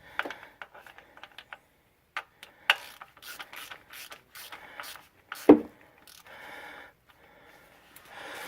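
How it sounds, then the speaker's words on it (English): Ratchet snugging a refitted transmission drain plug on a 2001 Ford Escape, heard as short bursts of close, dry clicking spread through the clip with a louder clunk midway and quieter mechanical rattling toward the end. "So I'm just grabbing the ratchet just by the middle here, just so we could snug it up."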